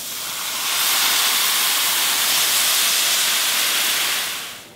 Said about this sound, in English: I'm gonna add about 1 cup of white wine